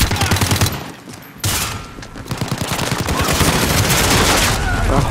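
Rapid gunfire from a secondary gun in a first-person shooter, dense loud bursts of shots filling the clip after a brief lull near the start.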